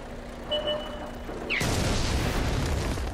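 A Tier 5 StuG III tank destroyer fires its gun in World of Tanks on Xbox 360, one sudden loud boom that cuts in mid-clip and rolls on as heavy rumble after quieter game sounds.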